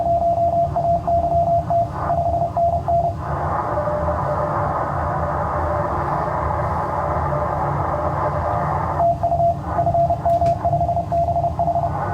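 Amateur radio signals on the 20 m band come through a receiver as steady tones, first in short keyed pulses, then as a broad continuous signal, then pulsing again.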